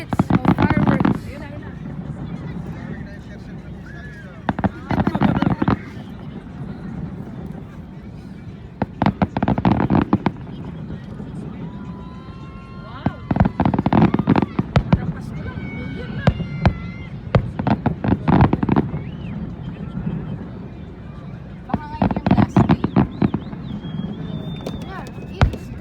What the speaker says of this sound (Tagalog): 10 minutes of fireworks.